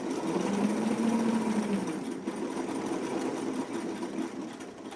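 A sewing machine stitches a vintage sweetheart blouse with a steady, close, fast mechanical whirr and rattle that runs without pause, no talking.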